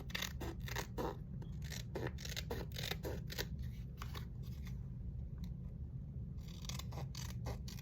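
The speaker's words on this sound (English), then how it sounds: "Just gonna trim the edges here." Scissors trimming the paper edges of a handmade craft card, a quick series of crisp snips and scraping cuts close by, pausing briefly before resuming, with no voice.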